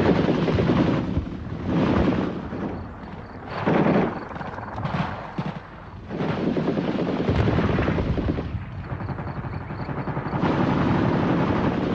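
Russian Hind gunship helicopters over Afghanistan with bursts of gunfire, a loud continuous rotor and engine roar punctuated by rapid shots, steady and close throughout with brief lulls.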